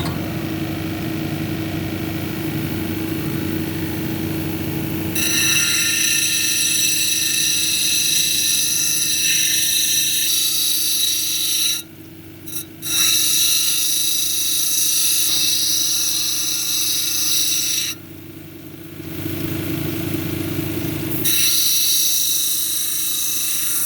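An 80-grit lapidary grinding wheel hums steadily while shaping a green tree agate cabochon, with a louder grinding whine each time the stone is pressed to the wheel and brief drops when it is lifted away.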